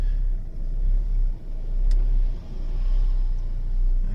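Kia Venga engine idling steadily in reverse as the clutch is let out, a continuous low rumble with slight swells and a brief faint click, no voices.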